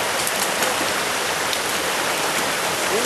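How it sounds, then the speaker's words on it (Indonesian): A small, very clear forest stream flows steadily near Aek Godang waterfall, a continuous bright splashing rush with no talk over it. "Sungai kecil"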